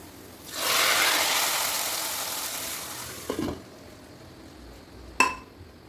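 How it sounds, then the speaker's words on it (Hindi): A hot tadka of fried onion and cumin is poured into lentil dal, giving a loud burst of sizzling that fades over a few seconds, followed by a couple of clinks of a metal pot and spoon. "तो तड़का भी लग चुका है दाल में"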